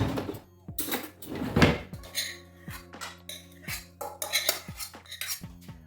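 Boiled rice spooned from a pot into raw minced meat: repeated metal spoon clinks and scrapes against the pot's rim, tapping out an irregular rhythm with soft wet thuds, close and clear.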